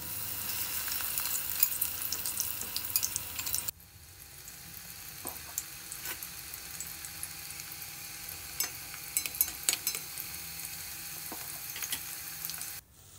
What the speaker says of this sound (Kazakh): қызып тұрған майымызға 2 беті қызарғанша осылай жақсылап қуырып алатын боламыз